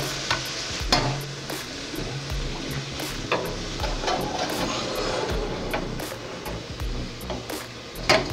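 Onions fry and sizzle in a pan while a utensil stirs them, giving a continuous close hiss broken by repeated scraping and clinking strokes against the pan, without talking.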